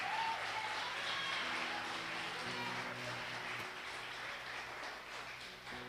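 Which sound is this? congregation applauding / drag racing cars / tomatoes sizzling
congregation applauding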